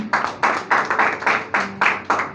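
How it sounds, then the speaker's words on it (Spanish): A church congregation applauds in praise after a sermon, clapping in unison to a steady rhythmic beat of about eight loud, evenly spaced bursts. "un fuerte aplauso para el Señor"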